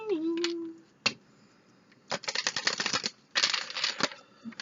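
Tarot cards riffle and slap in rapid clattering bursts, pausing between shuffles, with a brief voiced sound at the start.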